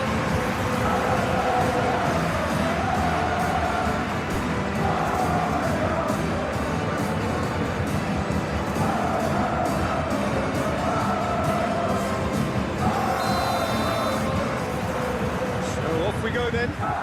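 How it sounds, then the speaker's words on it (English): Capacity stadium crowd at a PES 21 Champions League semi-final, Bayern Munich against PSG, a dense continuous roar with swelling chants, under a commentator's steady talk. "a capacity crowd here"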